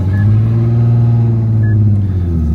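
An Infiniti G37 car's engine is already running, a steady low idle hum close by with faint short electronic chimes, holding evenly throughout without any voices.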